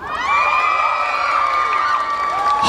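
A large crowd at an outdoor K-pop stage at COEX cheers and screams loudly and continuously, with high-pitched whoops and shouts and some applause, close and sustained.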